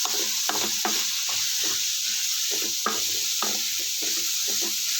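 Sizzling frying in a pan over a medium flame while eggplant cooks for a chutney, a steady broadband crackle with occasional stirring scrapes and clinks, fairly close and continuous, no voices.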